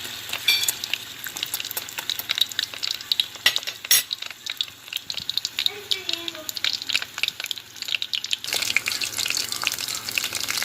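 Vietnamese seafood spring rolls filled with lobster, smoked salmon, shrimp and cheese fry in hot oil with a continuous soft sizzle, punctuated by light clicks and taps as bubbles are popped, and a brief quiet voice.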